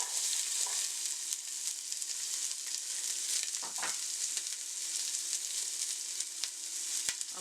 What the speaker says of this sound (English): And we're going to saute this up.